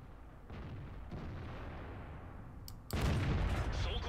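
An STA-1 tank cannon firing at an IS-2 in the video game World of Tanks: a low battle rumble, then one loud, booming shot near the end.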